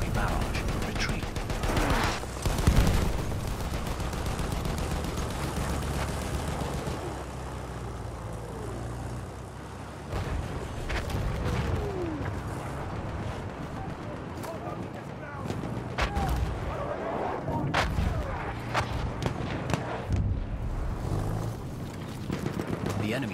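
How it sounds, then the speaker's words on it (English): Battlefield 1 gameplay with a steady roar of artillery barrage, scattered gunshots and rumbling explosions, dense and continuous, with voices heard over the din. "The enemies are being halted by our artillery barrage."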